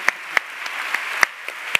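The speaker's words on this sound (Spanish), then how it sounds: "Aquí tenemos un fuerte aplauso a la Tamorada." Conference audience applauding at a congress opening, with sparse sharp claps standing out over a soft, thin bed of clapping.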